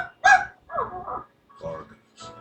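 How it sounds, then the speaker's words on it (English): Dog barks in a video game come in a few short, separate bursts, near and fairly loud, with no speech over them. "Bark."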